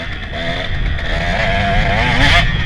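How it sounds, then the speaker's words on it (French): A KTM 150 two-stroke dirt bike revs hard and steadily while being ridden off-road in mud, its buzzing engine loud and close with a wavering pitch and no talking. "J'adore ça la moto."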